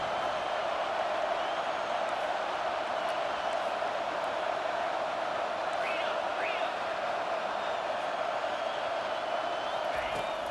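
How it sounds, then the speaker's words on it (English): Steady roar of a stadium crowd in EA Sports College Football 25 during a red zone defensive stand, a dense continuous wash of cheering with a few faint whistles, under speech. "And here comes the noise. This crowd is trying to inspire this defense to make a big red zone stop."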